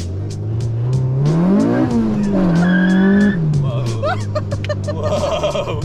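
A car is driven hard in low gears, its engine revving loud and close as the pitch climbs, holds high and then drops, with tire squeal and passengers talking and exclaiming over it.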